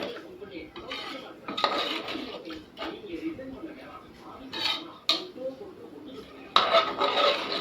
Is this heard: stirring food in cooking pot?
yes